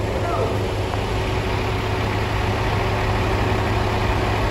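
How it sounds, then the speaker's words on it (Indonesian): A Scania K410 bus engine idles smoothly, a steady low diesel rumble with a constant hum, close and loud, unchanging throughout. "Suara mesin Scania K410 masih jreng, teman-teman, masih mulus"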